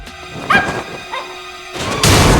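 A dog barks in a tense thriller scene from the film Hollow Man, with a few sharp yips under a heavy score, followed by a sudden loud crash-like burst.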